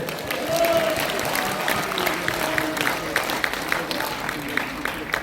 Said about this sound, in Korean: 그렇게 믿으시면 한번 박수 한번 해주세요